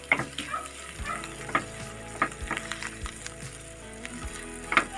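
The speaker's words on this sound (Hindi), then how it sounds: "अब हम इसमें धनिया पत्ता ऐड करेंगे, अच्छे से मिक्स करेंगे।" Coriander leaves stirred into a frying tinda and egg curry: a steady sizzle runs throughout beneath repeated scraping stirs of a spoon in the pan, a few sharper knocks standing out, with no talking.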